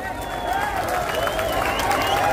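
Crowd applauding and cheering at a Dahi Handi festival in Ulhasnagar as a seven-tier human pyramid stands, a steady, dense roar of clapping and voices that holds loud for the whole moment.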